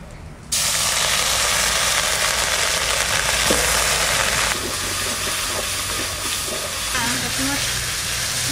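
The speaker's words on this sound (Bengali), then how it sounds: "তেলের মধ্যে আমি আর একটু তেল দিচ্ছি, তেজপাতা, শুকনো লঙ্কা, জিরে, পেঁয়াজ, আদা, রসুনটা আগে দিয়ে একটু কষাই নেব।" Bay leaf, dried chilli, cumin, onion, ginger and garlic fry in hot oil for a village-style fish curry, giving a loud, steady sizzle and hiss that starts abruptly and continues throughout, with faint stirring sounds.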